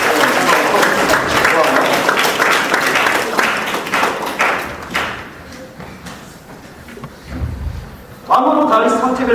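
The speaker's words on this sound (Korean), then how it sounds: "박수 한번 주세요." Applause from a church youth group congregation during a sermon, a dense burst of clapping that fills the first half and fades, after which a speaker's voice comes in over the end.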